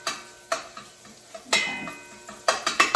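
Bacon sizzling in a pot, with a steady crackling fry broken by repeated sharp clinks and scrapes of a utensil stirring against the metal, close and clear.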